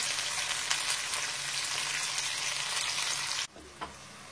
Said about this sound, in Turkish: Şimdi biz burada bizim bamyalar kızarttık bizim